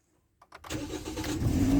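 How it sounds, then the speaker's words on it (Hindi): A car with a head gasket problem cranks and fires up after a moment of quiet, then settles into a loud, steady running engine close by. "मैं गाड़ी को स्टार्ट कर लेता हूँ।"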